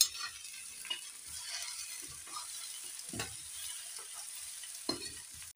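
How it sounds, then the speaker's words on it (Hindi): Wild okra (bhindi) with vegetables, salt and spices is stirred in a pan; a soft, continuous frying hiss runs throughout, broken by occasional scraping and clacking of the spoon against the pan, fairly quiet with no talk. "मैं अभी इस भिंडी को भी काट लेती हूँ और दोबारा उसमें मिक्स कर लेती हूँ"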